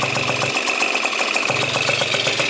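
A Yamaha Zuma 70cc scooter with a rebuilt Polini setup idles close by after an exhaust leak repair, a steady buzzing putter with a faint pulsing rhythm and no talk.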